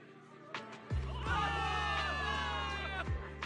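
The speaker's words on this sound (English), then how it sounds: "Give it up for yourselves, soldiers! Cheer for victory!" A crowd of soldiers in the video game Zenless Zone Zero cheers and shouts together for victory, swelling into a sustained roar with whoops over a low rumble, loud and close.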